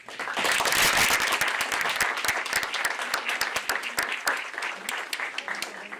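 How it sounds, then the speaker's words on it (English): Audience applause for panelists closing a leadership institute session, dense clapping that swells early and then thins into scattered individual claps. "A round of applause"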